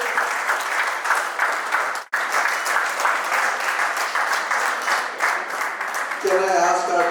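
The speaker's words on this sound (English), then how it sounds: "Let's give a big round of applause, guys." An audience at a business networking event applauds with dense, steady clapping that breaks off briefly and then resumes, with a voice speaking over the applause near the end.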